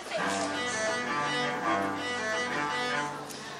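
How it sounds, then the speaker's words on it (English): Deep, resonant cello, played as part of a chamber orchestra, sustains bowed notes with rich low harmonics throughout, close and steady. "The cello is even deeper and known for its resonance."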